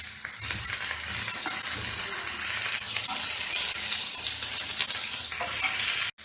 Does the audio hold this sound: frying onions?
yes